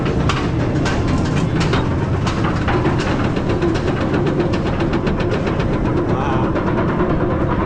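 Goliath, a Bolliger & Mabillard hyper roller coaster at Six Flags Over Georgia, rumbles loudly and steadily with rapid clacking and rushing wind throughout, heard close up from the front seat with faint voices mixed in.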